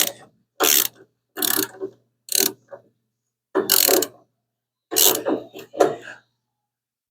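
A hand ratchet clicks in six short bursts with pauses between, close and loud, chasing bolt threads fouled with bed liner on a 1975 Hemi Plymouth Duster.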